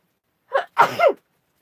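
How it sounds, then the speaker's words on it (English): A single close sneeze, a quick intake followed by a sharp burst, in otherwise quiet surroundings. "Oh, I'm going to sneeze."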